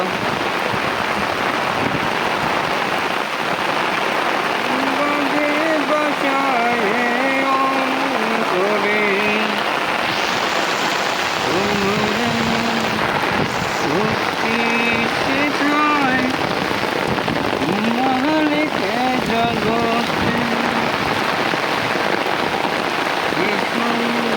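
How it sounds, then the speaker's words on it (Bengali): Heavy monsoon rain pours down in a Bengal village, a dense steady hiss of drops on surfaces throughout, with people talking intermittently beneath the downpour. "আহারে কি বৃষ্টি হচ্ছে"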